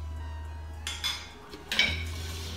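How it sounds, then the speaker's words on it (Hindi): A metal pressure cooker lid clanks and scrapes into place on the pot while Pakistani chicken shami kabab is cooking: two short, close metallic clatters over a low background hum. "अब हम इसका लिड कवर करते हैं।"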